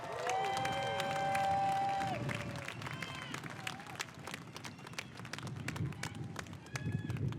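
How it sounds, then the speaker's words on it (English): A graduation crowd gathered outdoors for a high school ceremony breaks into applause and cheering, a broad wash of clapping and voices that sits under sustained tonal sounds early on and then continues steadily. "Give a round of applause"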